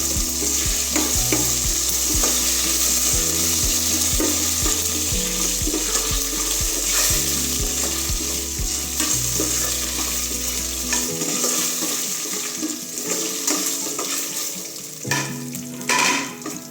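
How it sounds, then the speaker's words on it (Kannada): Black pepper and cumin fry slowly in a pan for pongal, making a constant close crackling sizzle with scraping stirs and occasional clinks of utensils, under a steady low musical tone through most of it and with no talking. "ಮೆಣಸು ಜೀರಿಗೆ ಅದು ಫ್ರೈ ಆಗಲಿ"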